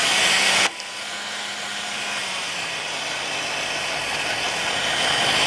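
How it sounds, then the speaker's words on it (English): A heat gun blows steadily while gently warming a thin plastic sheet, a loud airy fan hiss with a low motor hum that drops in level after a brief louder start, continuing evenly alone. "what I'm going to do now is just heat it with a heat gun"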